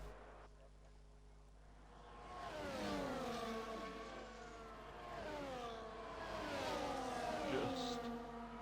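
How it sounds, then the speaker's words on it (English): Race cars on outlaps in a racing video game, engines revving and shifting with rising and falling tones that overlap as several cars run together, steady and fairly loud under a commentator's voice. "A few cars on outlaps now"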